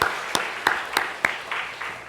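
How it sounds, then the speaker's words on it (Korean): A congregation claps in a church, with a handful of separate, fairly loud claps spaced about a third of a second apart that thin out and fade over two seconds. "우리 청년들, 우리 청소년들, 우리 아이들 위해서 박수 한번 해주십시오."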